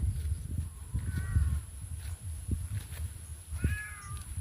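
A cat gives two soft, short meows a few seconds apart over a low, muffled background rumble.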